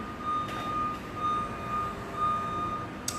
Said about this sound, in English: Do you hear the construction?